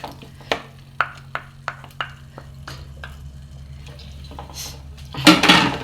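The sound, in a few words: vinegar masala being roasted and stirred in a pan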